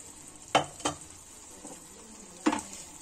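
Potatoes for dhaba-style dum aloo cooking in a pan over a low flame, a steady soft sizzle broken by a few sharp clanks of stirring against the pan.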